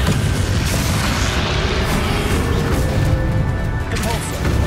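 A Confringo explosion spell in the video game Hogwarts Legacy erupts as a dense, rumbling boom with crashing debris, sustained and loud throughout the short stretch.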